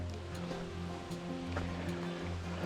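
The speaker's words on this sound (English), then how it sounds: "lots of water flowing here" Water flowing steadily in a woodland stream just past the Route 30 crossing on the Laurel Highlands Hiking Trail, a continuous close rushing wash with no voices.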